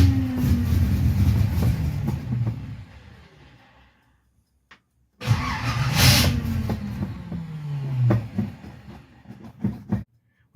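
Engine on a freshly rebuilt Holley double pumper carburetor cranking and catching, with loud low rumbling bursts and revving, a brief silent gap midway, then more cranking and running.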